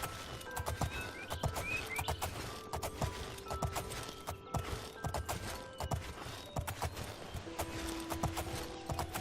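Horse hooves clip-clopping during riding in the Oblivion video game, a steady rhythmic clopping with light creaks, over quiet tonal background music.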